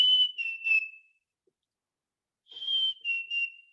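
A songbird's whistled three-note phrase likened to "cheeseburger", given twice with a pause between, clear and fairly close, no talking.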